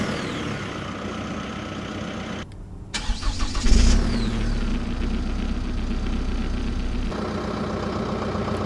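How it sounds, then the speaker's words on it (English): A Chevrolet Colorado Duramax diesel pickup engine cranks and catches on a cold start at 52 degrees, then settles into a steady, rumbling idle close by with no voices; engine noise dominates over exhaust tone. "you hear way more engine noise than exhaust tone"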